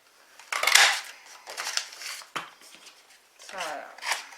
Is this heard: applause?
no